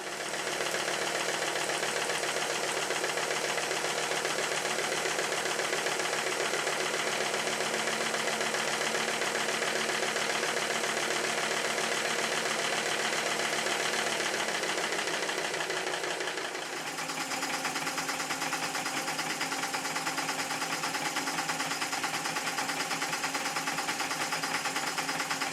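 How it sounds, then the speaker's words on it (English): Two Stuart S50 slide valve model engines running together on compressed air, a fast continuous mechanical chatter and hiss that changes tone partway through as the running shifts, close and steady throughout. "The plant makes a bit more noise when both of the engines are running."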